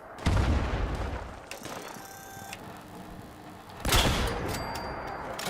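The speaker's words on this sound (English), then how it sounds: "That's a grenade." A grenade blast in Fallout 76 bursts out as a sharp loud boom, followed by a rumbling tail and a second heavy blast amid scattered gunfire.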